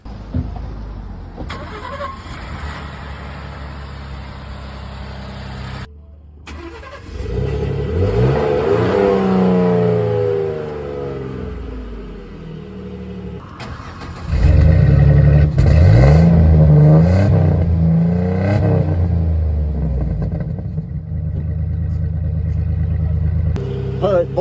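A Ford F-150 with the 2.7 L EcoBoost V6 starts up and is revved in bursts, loud and close, the engine note rising and falling over about twenty seconds with a voice talking at times.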